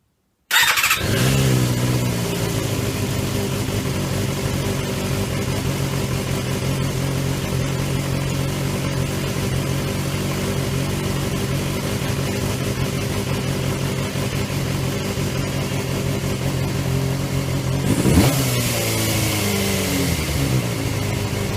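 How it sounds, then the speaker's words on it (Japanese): A Suzuki GSX250S Katana 250 motorcycle engine, just fitted with its carburetors, sputters to life and settles into a steady idle, then revs briefly near the end before dropping back slowly, hanging around 3000 rpm. "早速キャブをつけてエンジンをかけてみます。"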